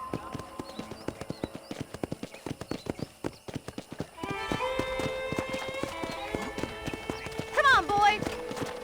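Horse hooves clip-clop steadily in Red Dead Redemption, then the sound shifts to a busier ranch scene with a horse whinnying near the end, with speech-like voices present.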